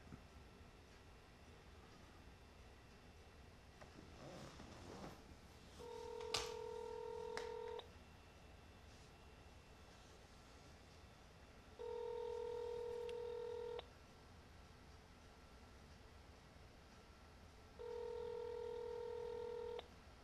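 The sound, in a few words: telephone dialing tones on speakerphone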